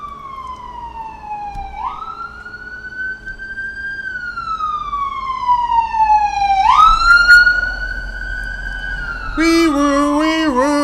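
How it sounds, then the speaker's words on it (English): Emergency vehicle siren passing outside, long rising and falling wails sweeping up and down, growing louder, then switching to a rapid warbling yelp near the end, heard through a quiet indoor room. "We got an obligatory siren going there too."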